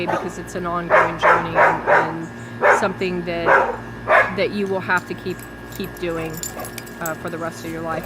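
Several dogs bark repeatedly in a backyard, sharp clustered barks coming in bursts at close to middle distance while a person keeps talking over them.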